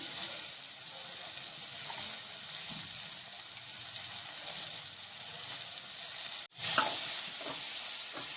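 Green chili paste being stirred into tomatoes and onions frying in a pan, a steady close sizzle with soft scraping, turning louder and brighter near the end.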